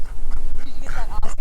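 A dog on a farm pants in quick, rhythmic breaths close to the microphone, loud and steady, with some faint whimpering mixed in.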